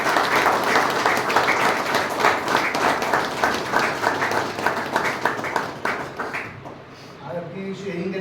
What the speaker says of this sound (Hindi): इस पे जोड़ो तालियां